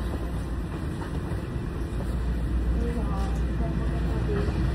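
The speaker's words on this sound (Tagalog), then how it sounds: "Ito na kami sa train." A train pulls out, giving a steady loud rumble and rolling noise heard from on board, with a voice talking over it.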